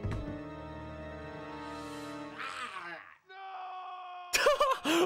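A zombie in Plants vs. Zombies: Battle for Neighborville lets out a drawn-out, wailing "no" scream, loud and tonal, over game music, followed by a second short burst of vocal sound near the end.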